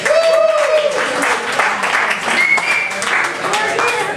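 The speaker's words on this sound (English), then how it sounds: "give Ellen a nice round of applause" At a bar and grill during a mentalism show, the crowd gives a volunteer a round of applause: close, lively clapping mixed with talk and some tonal background sound throughout.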